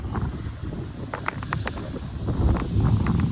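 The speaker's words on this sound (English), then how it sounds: "I really hope everybody can hear clearly, because it is real windy" Strong wind blows outdoors beside a Chrysler Crossfire, rumbling low against the microphone in uneven gusts, with a few sharp ticks and clicks over the steady buffeting.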